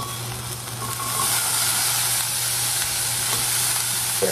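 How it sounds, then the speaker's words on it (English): Vegetables and onions sauteing in hot oil in a pan, a steady close crackling sizzle that swells louder after the first second, with no talking. "when we pour the vegetables in there to saute, we should get a nice crackle"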